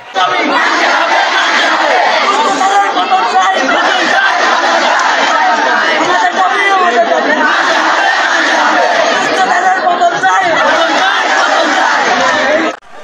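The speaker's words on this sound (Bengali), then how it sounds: "সকাল 10টার দিকে শতাধিক ছাত্রছাত্রী বিদ্যালয় প্রাঙ্গণে জড়ো হয়ে প্রধান শিক্ষকের অপসারণ ও শাস্তির দাবিতে স্লোগান দিতে থাকে" Hundreds of students gathered on a school ground chant slogans demanding the head teacher's removal and punishment, a dense, loud, continuous roar of crowd voices sustained throughout.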